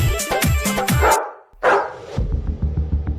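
A dog in the film 777 Charlie barks several times in quick succession, the sharp, close barks filling the first second before a brief silence and other film sound.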